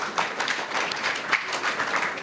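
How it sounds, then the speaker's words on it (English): An audience at a women's finance and investment summit and awards event in Ghana applauds steadily, a dense even wash of many hands clapping at moderate volume. "A round of applause for our host as well"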